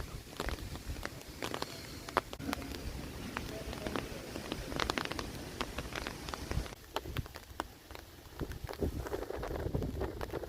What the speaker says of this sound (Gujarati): પવન અત્યારે ફૂલ ચાલુ થઈ ગયો